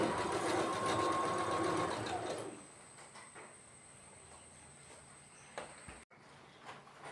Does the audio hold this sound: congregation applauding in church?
no